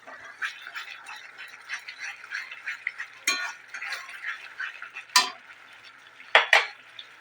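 A spoon clinks and scrapes in a pan while potato biryani gravy with spices is stirred, a series of soft irregular scrapes with a few sharper metallic knocks near the end.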